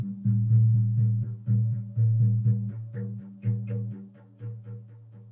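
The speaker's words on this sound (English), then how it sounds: "That specific drum beat is the shamanic journey beat." Shamanic journey drumming, a steady monotonous hand-drum beat with booming low strikes repeating at a quick even pulse, close and alone without talk.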